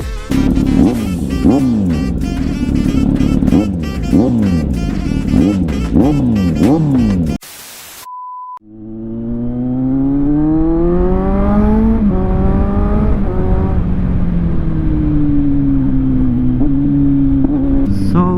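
A Kawasaki Z900 motorcycle with its exhaust pre-silencer removed but catalytic converter kept blips its throttle in quick repeated revs, pauses briefly, then revs up in long climbing pulls, loud and close.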